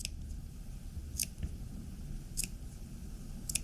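Scissors snipping into the curves of a sewn waistcoat side seam, four crisp, sharp snips spaced about a second apart over a faint room hum.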